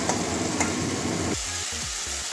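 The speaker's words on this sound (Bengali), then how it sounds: "ভালোভাবে একটু কষিয়ে নেব" Kolmi greens are stir-fried in a pan for a rohu fish curry, giving a brief, steady sizzle with the soft rustle of stirring and no voices.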